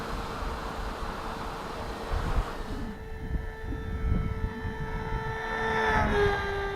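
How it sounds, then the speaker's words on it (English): A small ZOHD Nano Talon RC foam plane flies overhead with a steady electric motor and propeller whine, holding a constant tone and rising slightly as it passes closer near the end. "It's a fun little aircraft."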